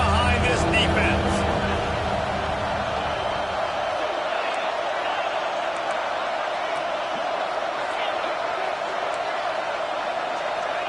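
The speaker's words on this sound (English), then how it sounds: "Big 3rd down as the crowd gets behind this defense." Stadium crowd in the college football video game NCAA Football 26 roars steadily behind the defense on a big third down, a dense continuous wash of cheering that stays loud throughout, with a brief heavier rumble at the start.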